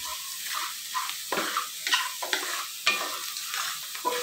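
Fenugreek seeds roasting in a pan over medium heat for methi rice, with a soft continuous sizzle broken by repeated scraping stirs of a spoon, close and fairly quiet.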